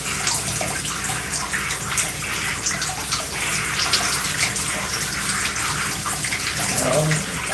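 Tap water runs steadily while gel is rinsed out of natural hair during a wash and go, a close, continuous splashing gush with no pauses.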